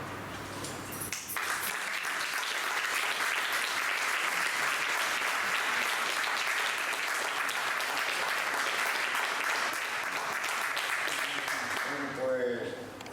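Following a poem recital, an audience applauds in a long, full, even wave of clapping that swells just after the start and holds steady before fading, with a voice briefly heard near the close.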